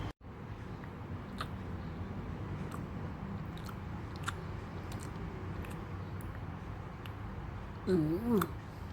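Close, soft chewing of French toast soaked in maple syrup, a steady moist munching under quiet room noise, with a brief hum of a voice near the end.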